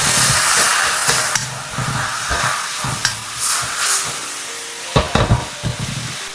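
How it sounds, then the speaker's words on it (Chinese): Green beans with oyster sauce and soy sauce sizzle loudly in a hot wok as they are stir-fried, a constant hiss broken by a spatula's scrapes and clacks against the pan. "翻炒均勻"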